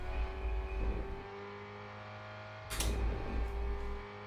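Race car engine in the racing video game Rennsport, a steady droning tone holding through a corner, with a brief louder rasp partway through, close and continuous.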